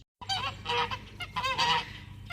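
Several farm geese honking loudly and close, overlapping raucous calls in quick bursts.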